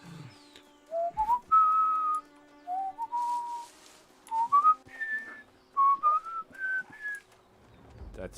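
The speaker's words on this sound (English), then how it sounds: "I can't whistle that high." A person whistles a rising tune of clear sustained notes, climbing gradually higher in short phrases with brief breaks, up close and fairly loud.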